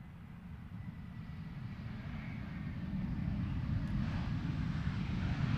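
An EasyJet airliner taxis out at Luton Airport, its engines a low steady rumble that grows gradually louder over several seconds, heard from a distance with no talk.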